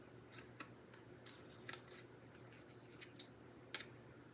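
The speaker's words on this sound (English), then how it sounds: "cut these pieces out." Scissors snip card pieces for a stamped card portfolio, a quiet sequence of about eight sharp close cuts at irregular intervals over a faint hum.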